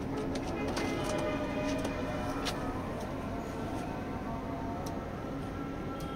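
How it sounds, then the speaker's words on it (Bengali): A Japan line racing pigeon, of the Haji Younus Japan line, coos softly at a loft against a steady, dense background hum with faint ticking. "এ হলো কবুতরটা"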